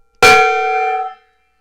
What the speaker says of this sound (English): we're going to hit the gong because Lord Crashington redeemed that gong